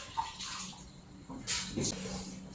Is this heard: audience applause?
no